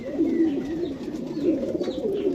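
Pigeons at a loft doorway give soft, repeated throaty coos, close and clear, rising and falling in a gentle wavering rhythm with no talking.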